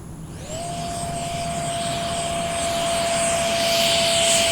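An E-Flite Viper 70mm electric ducted fan model jet comes in to land, its fan a steady high-pitched whine that rises in pitch at the start and holds over a broad rushing roar, loud and close and slowly growing louder.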